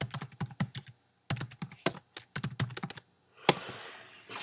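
Typing on a computer keyboard, close and fairly quiet, coming in short irregular bursts of clicking keystrokes separated by brief pauses, ending with one sharper keypress and a faint hiss.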